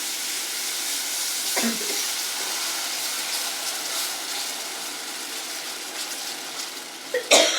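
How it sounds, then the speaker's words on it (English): Satay peanut sauce with coconut milk sizzling in a hot pan while being stirred, a steady bright hiss with a couple of sharp utensil knocks against the pan. "So just give this a stir, and then add in the coconut milk."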